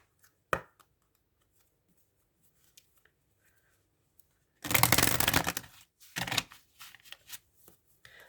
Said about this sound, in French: Donc, après, on va tirer une carte comme ça.